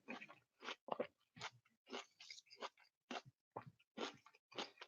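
Close, wet chewing of dense food after a long water fast, in irregular mouthfuls with short pauses between, with small squishy and crunchy bites.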